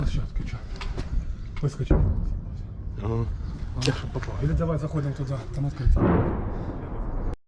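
Artillery fire and explosions sound in Ukraine, with several heavy distant booms spread through the clip under near-continuous talking.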